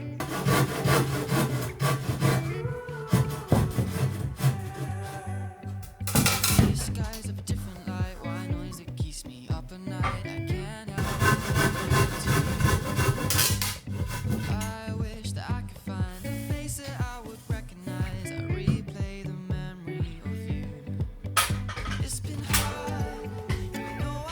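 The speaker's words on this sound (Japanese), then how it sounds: "寝室の部屋の、断熱材の最後の1列を、 入れていきたいと思います" Sawing and rubbing against wood while fitting the last row of insulation into a bedroom attic during a DIY home build, with a cut 2x4 brace nearby; steady close work noise with bursts of louder scraping throughout.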